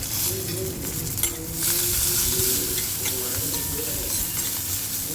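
Cumin, coriander seeds, turmeric, garlic and coriander leaves fry in a pan with a loud, steady close sizzle, broken by the scrape and rustle of stirring.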